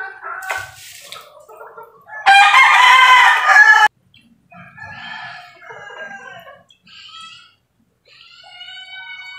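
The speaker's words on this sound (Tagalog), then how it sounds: "Talagang may halak talaga siya, mga manok." A rooster with a cold and rattling congestion crows loudly in one long burst, with scattered raspy clucks and wheezy bird calls before and after, close and alone with no talk.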